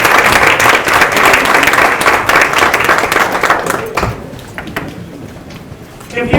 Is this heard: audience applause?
yes